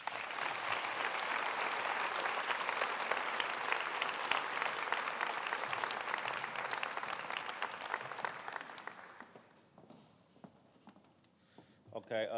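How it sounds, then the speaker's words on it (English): Audience applause for veterans at a national service event swells steadily for around eight seconds, then thins out to scattered claps and faint room noise as a voice begins to speak. "give them a round of applause"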